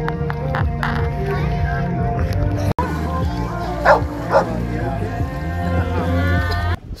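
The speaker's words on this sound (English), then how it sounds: "dogs are swimming, kids are having fun" Dogs bark at a river swimming hole on the Bedekin River at a camp, a couple of short barks rising over steady outdoor background noise and voices.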